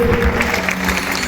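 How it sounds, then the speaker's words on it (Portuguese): Audience clapping at a summit event on stage, a brief burst of scattered claps mixed with crowd noise and a faint sustained tone. "salve de palmas para vocês."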